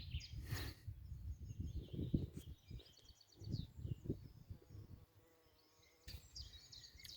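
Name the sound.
honeybees buzzing in a forest garden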